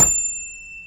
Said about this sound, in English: I'm going to ring my bell in 3,